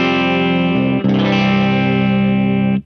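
Clean electric guitar through Fender bass pickups in C standard tuning, a single strummed chord ringing out, then a second chord sustaining loud and steady for about two seconds before cutting off, no voices.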